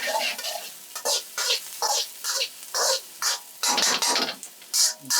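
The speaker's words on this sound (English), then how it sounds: "Two cloves of garlic. This is on high fire" Two cloves of garlic fry over high heat while a utensil stirs them, giving rhythmic bursts of scraping and sizzle about once per half second, close and clear.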